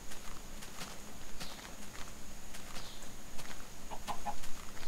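A chicken in the Minecraft video game clucks amid soft in-game footsteps and clicks, with short clucking calls near the end over a steady game background.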